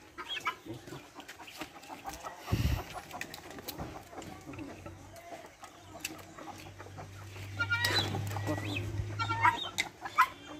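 Chickens on a small home poultry farm, scattered clucks and short calls at moderate distance over background noise, with a low steady hum in the middle.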